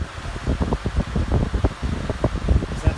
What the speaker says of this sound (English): There's your completed Westinghouse plastic Riviera floor fan